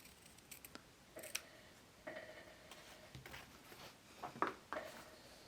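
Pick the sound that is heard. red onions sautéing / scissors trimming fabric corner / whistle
scissors trimming fabric corner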